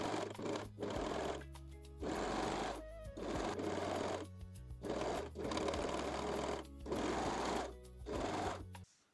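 A domestic sewing machine stitches the side seams of a bralette in repeated bursts, each run of stitching separated by brief pauses, close and clear with no talking.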